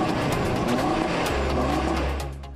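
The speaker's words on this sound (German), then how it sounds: "Typischer 5-Zylinder-Sound, zwei ovale Endrohre der Abgasanlage." Audi TT RS five-cylinder engine with oval twin tailpipes: a steady, throaty engine and exhaust drone that settles into a lower rumble toward the end, moderately loud, with no talking.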